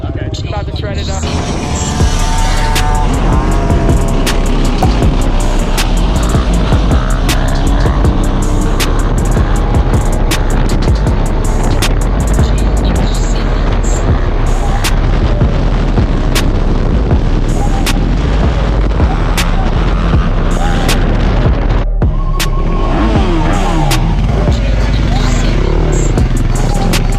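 An old Yamaha Blaster and Honda ATVs ride along a road, their engines a loud, continuous, rough roar that surges and dips steadily throughout, with voices now and then under the noise.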